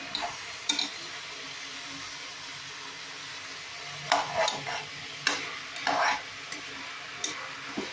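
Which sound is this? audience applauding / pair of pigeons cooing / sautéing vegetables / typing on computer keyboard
sautéing vegetables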